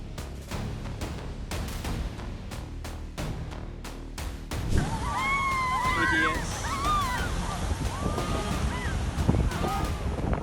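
Ocean waves surge onto the shore along a peninsula coastline, a steady broadband wash with wind buffeting the microphone, growing heavier and rougher after the first few seconds as a larger surge rolls in; shrill cries sound over the surf.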